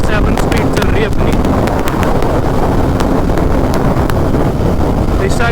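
A TVS Apache RR 310 sport motorcycle cruises in sixth gear at about 127 km/h, heavy roaring wind buffeting the microphone and masking a steady engine drone, loud and unbroken throughout.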